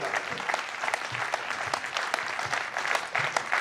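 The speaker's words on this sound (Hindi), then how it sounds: "एक बार उन दोनों संघों के लिए जोरदार तालियां बजाइए" Steady crowd applause at a Jain religious ceremony, with many dense, overlapping claps, loud and sustained throughout, with a faint murmur of voices underneath.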